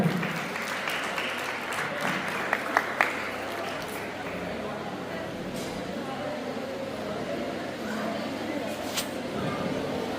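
An audience applauds at a consumer protection council gathering, a dense, steady wash of clapping that lasts throughout with a few sharper claps standing out near the start.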